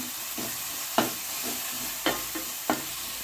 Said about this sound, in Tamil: ஒரு 4 பச்சை மிளகா அதில் அப்படியே முழுசாகவே பச்சை மிளகா அப்படியே சேர்த்துக்கணும்.